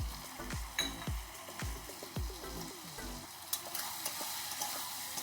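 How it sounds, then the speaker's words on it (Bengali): Spiced potatoes with shrimp and black pepper are stirred in a sizzling pan, a spoon scraping and tapping in repeated strokes over a steady fry. "ভালো করে একটু নাড়াচাড়া দিয়ে নেব"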